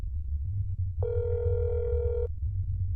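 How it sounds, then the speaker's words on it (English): A steady electronic phone tone from a call placed to a neighbor's apartment in the video game That's Not My Neighbor, one sustained ring lasting just over a second over a low background hum. "I make a phone call to her apartment"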